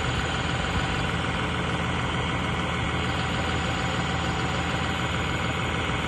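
A new-model 5620 CRD tractor engine idles with a steady, unbroken diesel drone, close and fairly loud, alone without talk.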